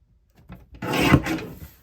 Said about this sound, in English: we'll place it into the trimmer with this narrow strip on the right